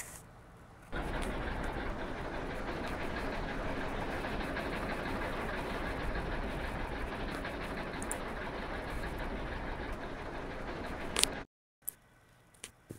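A ballast train in the video game Train Sim World rumbles along steadily, a dense continuous roar with faint clicking of wheels over rail joints, holding constant before cutting off abruptly near the end.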